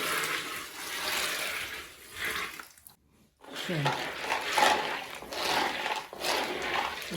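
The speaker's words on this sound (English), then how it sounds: "So this is me pouring water into the groundnut, just like so." Water poured onto a bulk batch of groundnuts being prepared for commercial frying, a continuous splashing rush that pauses briefly and then resumes, close and fairly loud.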